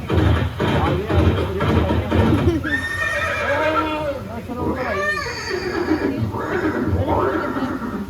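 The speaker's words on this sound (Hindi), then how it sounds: "ये दृश्य महाराणा प्रताप और सुविख्यात स्वामी भक्त घोड़े चेतक के अंतिम मिलन का है।" Horse neighing and whinnying with clip-clop hooves at a museum exhibit of Maharana Pratap's horse Chetak near Haldighati, Udaipur, Rajasthan; several loud rising whinnies over a steady background and a talking voice.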